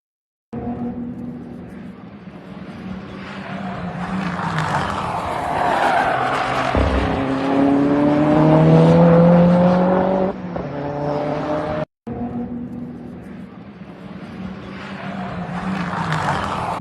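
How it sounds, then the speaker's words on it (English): A Subaru WRX race car takes corners, its exhaust tone rising and falling with shifting pitch and a tire squeal partway through. After a brief cut the engine note picks up again, loud and steady throughout. "that car actually taking a couple corners here, and you get some nice exhaust tones to it."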